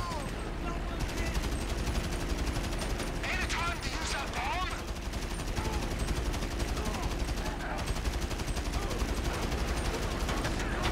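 Sustained rapid gunfire in GTA, dense machine-gun bursts rattling steadily throughout at moderate loudness, with someone talking over the shooting.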